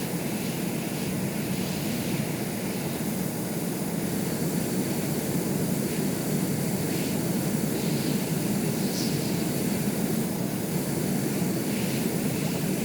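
A propeller aircraft in the Stormworks video game: a steady, droning engine roar that holds constant and fairly loud for the whole stretch, with no voices.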